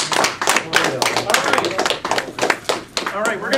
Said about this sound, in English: Let's have a warm round of applause for our speaker, Sonja Perdue